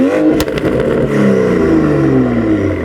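Toyota Supra engine fitted with a new exhaust revs hard, a loud, close, sustained engine roar that climbs and falls in pitch with a brief sharp crackle near the start.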